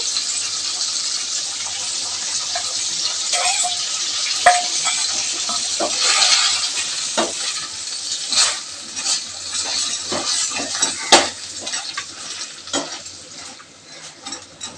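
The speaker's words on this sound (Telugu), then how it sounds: "ఇప్పుడు ఎల్లుల్లిపాయ జీలకర్ర పేస్ట్ వేసుకుందామండి." Garlic and cumin paste goes into a village-style prawn leg curry and is stirred through. A loud, steady sizzle runs throughout, broken by scraping stirs close by. No one speaks.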